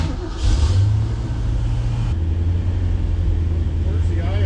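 A 1966 Ford Mustang engine with Holley Sniper fuel injection cranks and catches, then settles into a steady, close rumbling idle.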